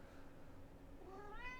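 A pet cat gives a faint meow near the end, over a steady background hum in a quiet indoor room.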